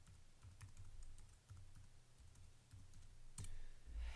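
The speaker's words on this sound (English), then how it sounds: "So I'm going to type my password in." Quiet keystrokes tap out a password on a computer keyboard while a bootable OS X El Capitan USB install drive is being made. A soft, irregular clicking plays over low room hum, with a louder click near the end.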